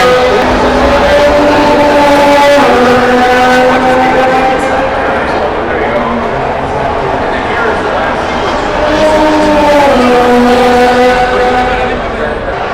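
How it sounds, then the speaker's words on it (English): Formula 1 cars scream past during Miami Grand Prix practice, their high-revving engines rising and falling in loud passes one after another, with someone talking over the roar. "As you guys can hear, these cars are very high revving."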